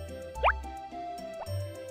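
A watering can sprinkling crops in Harvest Moon, a short bright rising chime-like splash followed by softer plops over a looping melodic game tune.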